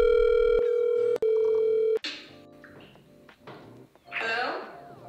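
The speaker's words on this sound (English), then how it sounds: "I'm gonna call her now." A cellphone dials a call: a steady tone and a series of short beeps, then fainter ringing tones, with a brief burst of voice near the end.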